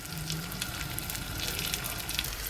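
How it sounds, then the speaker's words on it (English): Continuous crackling sizzle of schnitzel frying in a hot buttered pan, close and steady, with scattered pops and no talking. "lay your schnitzel in and you will hear that wonderful sizzle"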